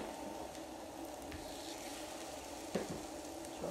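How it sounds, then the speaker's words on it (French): Marinated pork chops sizzling on a hot micro-grill, a soft steady crackling hiss close by with a couple of brief louder pops near the end, no talk. "je vais nous mettre les chops dessus, puis j'espère que vous allez l'entendre"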